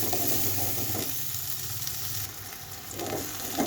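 Onion frying in a pan for a potato and fish-head ghonto, a dense continuous close sizzle that eases briefly and swells again, with no talk.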